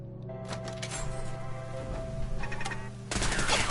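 Automated turrets fire in Fallout 4 in rapid bursts of gunshots, a clattering stream that starts, pauses and resumes over game music. The fire is moderately loud and grows denser toward the end.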